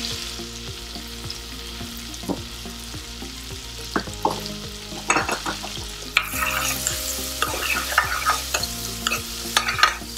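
Chopped garlic and onion fry in a pan with a steady sizzle, broken by the scrape and clack of a spoon stirring, and the frying grows louder and brighter partway through; no voices.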